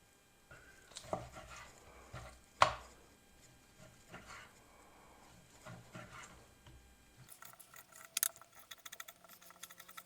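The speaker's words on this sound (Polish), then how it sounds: "mięsa odmierzonego z łopatki i pokroimy sobie w taką nie za dużą, nie za małą kostkę" Knife cutting pork shoulder into cubes on a board, sparse soft thuds and scrapes with one sharper knock, quiet and close, followed by a brief rattle of light clicks at the end.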